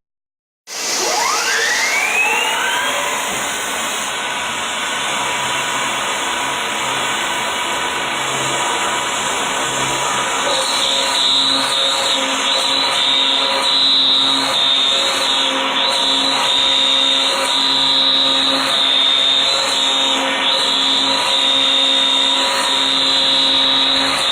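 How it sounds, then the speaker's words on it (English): Large old CNC mill hogging out an aluminum-style part at speed: a loud, steady machining whine with tonal spindle harmonics that ramps up at the start and holds continuously throughout, without talk. "he's got a really big old CNC mill that kicks ass, and he can hog this out in a hurry"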